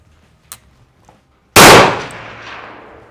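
A single sharp gunshot from a handmade rifle firing a .223 case necked up to .300 cracks loudly and close, then rings out in a decaying tail after a couple of faint clicks.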